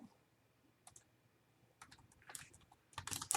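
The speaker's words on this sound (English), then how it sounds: "I'm trying to type too fast here." A computer keyboard is typed on in short, uneven bursts of clicking keys, sparse at first and then quicker and louder toward the end, with no talking.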